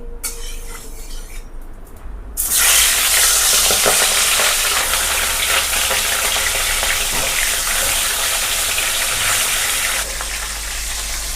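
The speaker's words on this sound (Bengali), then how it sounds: "এখানে মাছটা ভাজা হচ্ছে" Loud, continuous sizzling of turmeric-coated fish frying in hot oil erupts after a quiet start and holds steady, close up, with faint background sounds beforehand.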